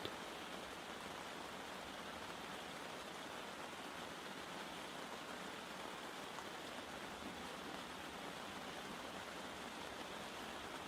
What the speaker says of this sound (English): The sound of the rain hasn't changed